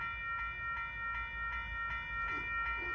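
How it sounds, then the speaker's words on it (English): Long Beach intermodal freight train passing at Arlington, heard as a steady rail rumble with faint regular clicking of wheels over joints, fairly distant and alone without talk. "the Long Beach Intermodal train is heading for Long Beach"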